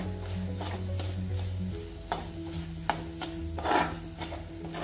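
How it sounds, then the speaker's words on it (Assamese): A spoon scrapes and stirs grated coconut and jaggery in a wok while making barfi, with a soft continuous sizzle and repeated rubbing scrapes up close. No one speaks. "নাৰিকল গুৰ এইখিনি লৰাই আছোঁ।"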